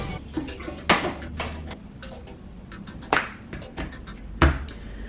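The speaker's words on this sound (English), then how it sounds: "Now I'm gonna start boiling a pot of water so I can cook these noodles" Irregular metallic clanks and clatters of a pot being handled and set down, some sharp and close, with quiet room noise between.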